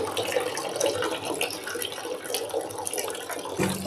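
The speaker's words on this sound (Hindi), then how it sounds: "व्हाट आई प्रिफर इस थोड़ा सा ल्यूक वाटर हो, गुनगुना पानी, उसमें हम इसको डालते हैं।" Lukewarm water pours and splashes steadily into a basin for washing helmet cheek pads, a close, continuous rushing with small shifts and a brief clunk near the end, heard alone without talk.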